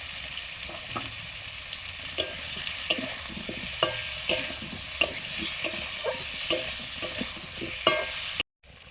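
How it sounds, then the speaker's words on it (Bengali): Fish pieces sizzling in a pan of simmering curry with turmeric added, a soft continuous fry punctuated by regular scraping stirs of a spatula, moderately quiet and close, with no voices. "মাছ দিয়ে দিচ্ছি। হলুদ,"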